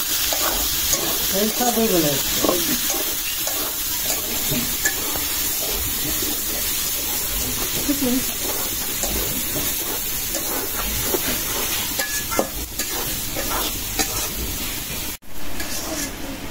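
Meat sizzles and fries in a pan alongside shrimp and onions, with steady loud crackling and repeated scraping stirs of a spatula throughout, and faint voices now and then in the background.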